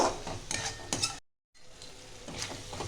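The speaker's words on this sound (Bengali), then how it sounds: "এটা আস্তে আস্তে আমি ভালো করে কষিয়ে নেব।" Spice masala slowly sautéed with a little water in a pan over low gas for chicken do piazza, soft sizzling with stirring scrapes, a brief silent gap midway before the frying resumes.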